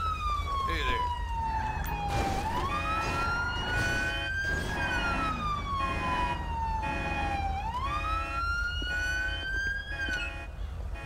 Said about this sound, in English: Here, let me turn off my siren.